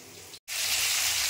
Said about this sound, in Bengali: দেখো ভেটকি মাছটা ভাজা বসিয়ে দিয়েছি